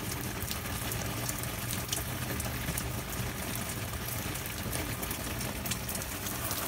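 Light-to-moderate rain outdoors, a constant quiet rushing hiss with scattered crisp drop taps, unbroken throughout and with no talking.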